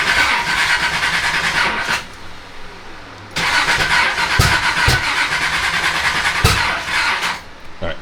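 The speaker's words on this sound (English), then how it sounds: "Let's go ahead and try to start this again." A built Nissan 300ZX engine cranks loudly and close, pauses briefly, then cranks again with a steady whirring churn and a few sharp bursts as it tries to fire.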